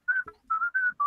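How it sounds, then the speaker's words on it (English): A person whistles a short tune: four or five clear, sustained notes in quick succession with brief breaks between, close and fairly loud, no other sound. "Yeah, I can probably whistle it back."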